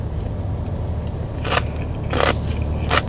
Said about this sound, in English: All right, let's try this side of cabbage.